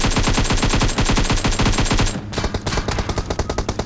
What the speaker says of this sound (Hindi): पीछे करते हुए फायरिंग किए, फिर भी नहीं गिरा पाया